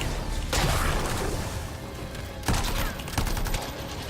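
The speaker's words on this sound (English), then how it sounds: "Right, let's chuck a grenade." A grenade thrown and exploding in the video game Anthem, with heavy booming blasts, dense crackling gunfire and crashing impacts in close, loud bursts.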